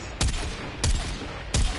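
Three spaced, heavy single gunshots from a Warframe weapon ring out over a steady game background, each blast booming and fading quickly, with a slow, deliberate rhythm.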